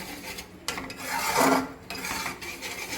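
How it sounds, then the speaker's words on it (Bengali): Masala for a Bengali-style paneer curry being stirred and fried in a pan, rough scraping and rasping strokes of a spoon over a soft sizzle, rising in the middle and then easing off. "এবার আমি এটা মশলাটা আমি কষাতে থাকলাম"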